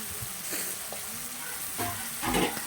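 Potatoes frying in oil for vegetarian aloo dum, a low continuous sizzle with occasional stirring scrapes and a louder burst of crackling near the end.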